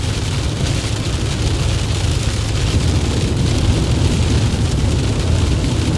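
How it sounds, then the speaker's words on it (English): Heavy rain pours down during a storm with hail expected, a loud, constant wash of noise that stays even throughout with no voices. "Yeah, there's a lot of precipitation."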